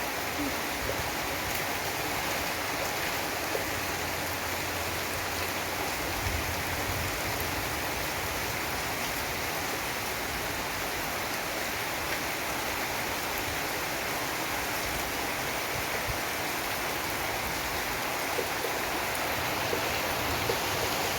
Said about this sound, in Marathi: खूप दिवसात ना आज पाऊस आला